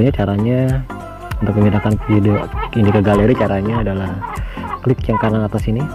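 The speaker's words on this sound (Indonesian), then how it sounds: "Tadi suara ayam ya, gue berasa di kandang ayam jadinya." Chicken clucking mixed in with a person talking steadily, the bird sounds close and fairly loud beneath the voice.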